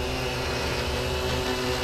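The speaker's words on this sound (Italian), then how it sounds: "Il drone è stabilissimo." Cheerson CX-20 quadcopter drone hovering in stable mode, its propellers giving a steady close buzzing whir for a couple of seconds with no voices.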